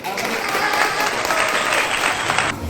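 Classroom students burst into dense, energetic clapping for a religious studies lesson, a continuous close round of applause lasting a few seconds before stopping abruptly.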